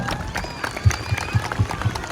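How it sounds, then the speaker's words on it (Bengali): Audience applause rises at a live stage program, a steady patter of clapping and crowd noise with a few heavier thumps over about two seconds. "একটা হাততালি মেরে দাও সবাই।"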